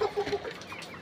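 Layer hens on a poultry farm cluck in short, close bursts, several calls overlapping in about a second of steady flock noise.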